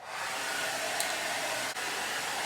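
A hair dryer blows steadily and close at constant strength, drying gilding size on a furniture piece being silver-leafed.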